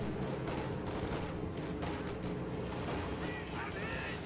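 Gunshots in a video game battle as a sniper fires at infantry from range, heard as repeated distant pops within a continuous wash of artillery and gunfire, with a voice talking over it.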